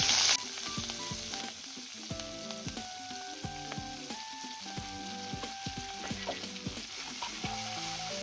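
Chopped celery leaves stir-frying in sesame oil in a pan, a soft steady sizzle under a string of short bright tonal clinks and knocks, with a louder burst at the very start.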